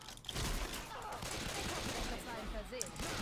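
Gunfire in the zombie shooter video game Left 4 Dead 2, a dense, steady burst of shots and game noise across the whole stretch, with a player's voice talking over parts of it.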